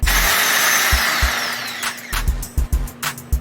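A 5-in-1 rotary, sander and orbital polishing machine whines loudly, then spins down, followed by a series of short uneven bursts and knocks with no talking.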